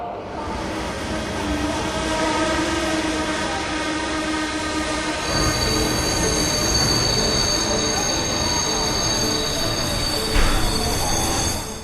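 A train in the Zodiac Grenade video game pulls into a station and brakes, with a loud, steady rumble, long metallic wheel squeals and high whining tones that carry on throughout.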